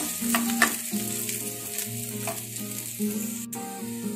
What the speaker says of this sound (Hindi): अब इसमें हम गाजर डाल देंगे, अच्छे से फ्राई कर लेंगे गाजर को भी।